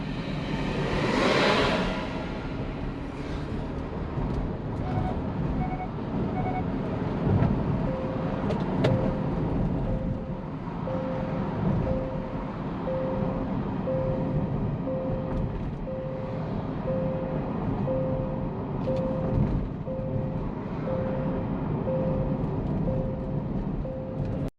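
A 2023 Genesis GV70 with warning lights in its cluster drives on the road, a constant low rumble of road and cabin noise with a thin steady whine running underneath.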